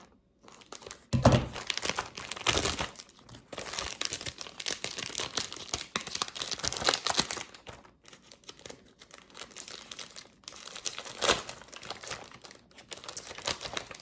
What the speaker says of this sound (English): I'm going to take my little heart stickers that I got from the Dollar Tree.